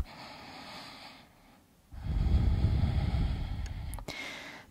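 A deep breath taken during a yoga pose: a soft intake followed by a longer, fuller exhale through the nose, close and breathy, with no talk over it.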